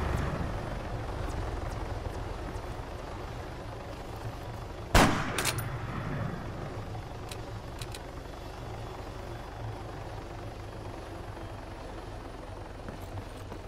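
A helicopter in the ArmA 3 video game, Altis Life mode, hums as a steady low rotor drone throughout, with one sharp bang near the middle. No one talks.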